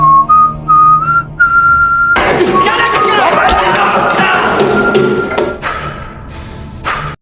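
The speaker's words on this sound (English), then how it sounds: "he hears someone whistling and immediately recognizes it" Someone whistles a short tune in a prison, with clear pitched notes at first, then the whistling gives way to a sudden burst of loud scuffling, crowd noise and clatter.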